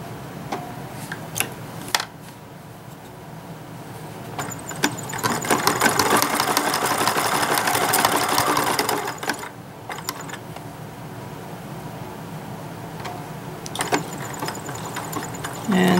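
A sewing machine runs a zigzag stitch along the edge of a doll-sized reversible vest, its steady mechanical whir building louder in the middle stretch between quieter, ticking motor sounds, with light voice underneath.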